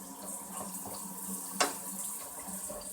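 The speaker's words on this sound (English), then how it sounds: "you want to turn your hot water on" Hot water runs steadily from a kitchen tap in a continuous close splashing hiss, with a brief clink partway through.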